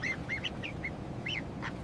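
A duck calling in short nasal quacks and honks, about six bursts in an irregular run, fairly close over a low background hum with no talk.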